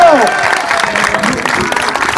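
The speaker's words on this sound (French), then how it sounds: "Vos derniers applaudissements pour Michael Pichot" Spectators applaud a rider at a motocross meeting, loud dense clapping blended with crowd noise and a few calls, with a motorbike engine whining underneath.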